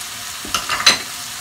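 A spoon stirs savory crepe filling frying in a pan, with a couple of brief scraping strokes over a soft, steady sizzle, close and fairly quiet.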